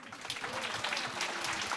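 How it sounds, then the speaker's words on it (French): Audience applause at a film festival meeting with a director, a steady dense patter of clapping filling the room throughout, fairly close and even. "Applaudissements."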